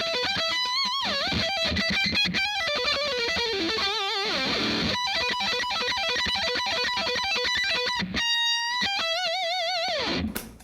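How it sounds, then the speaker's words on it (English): Ibanez electric guitar played through a distortion pedal, heavy and saturated, with sustained bent notes, fast runs and vibrato-laden lead lines, a brief choked pause near the end before a final sliding note cuts off. "if I crank it up a little bit and put a distortion pedal on"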